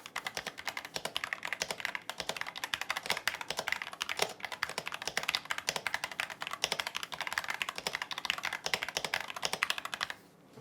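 Rapid, continuous clacking from typing on a Thieves Edition High Ground mechanical keyboard, busy and close, with dense keystrokes running steadily until a brief stop at the end.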